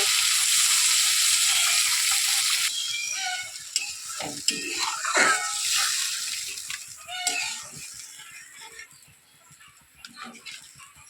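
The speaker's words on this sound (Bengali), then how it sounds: "ভালো করে কষিয়ে নিতে হবে যতক্ষণ মশলায় তেল না ছাড়বে" Mustard-poppy spice paste sizzles and crackles in hot oil for a village-style pomfret curry, with stirring scrapes and clinks of a spoon against the pan, loud at first and easing toward the end.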